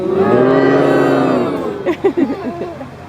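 A crowd at a Renaissance festival moos in unison like cows, making one long, loud sustained moo. Short scattered moos and laughter follow, with human voices imitating cattle.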